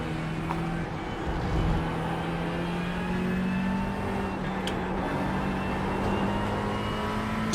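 A race car engine in the 12 Hours of Spa racing game drones steadily and loudly, with a sustained tonal hum that shifts only slightly in pitch as the car keeps running.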